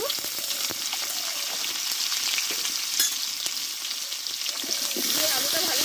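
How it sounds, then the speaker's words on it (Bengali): Potato pieces fry in oil with turmeric for a spicy Bengali-style chicken dish: a dense, continuous close sizzle with occasional stirring clicks and scrapes throughout. "আলুটা ভালোভাবে একটু কষে নেবো"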